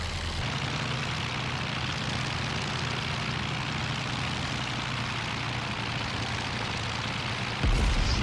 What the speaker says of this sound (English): Here's the enemy planes spawning in.